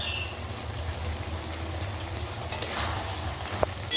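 Malabar spinach stem vegetables with sugar are stirred in a pan, giving a quiet continuous sizzle and bubbling hiss with a low steady rumble underneath and a few brief scraping clinks of the spatula near the end.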